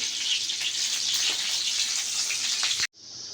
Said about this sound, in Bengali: রসুনটাকে আমি হালকা একটু ভেজে নিব